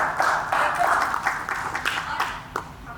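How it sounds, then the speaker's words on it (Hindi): A theatre audience claps together during a stage play at the Arts Council theatre, a dense, steady patter of hands lasting a few seconds with a few sharper claps standing out. "तालियां बजाएं माँ जी के लिए।"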